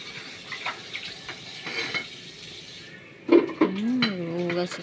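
Water runs steadily from a tap while a child washes dishes, plates clinking and clattering nearby, with a few louder knocks and scrapes toward the end.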